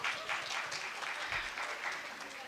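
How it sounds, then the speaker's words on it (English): Applause from a medical society audience at a conference session, a steady dense patter of many hands clapping together, moderately distant and continuous throughout. "So huge round of applause for Patna Obs-Gynae Society."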